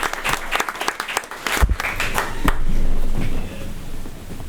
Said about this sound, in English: I'd like to give another round of applause for the LFO football team.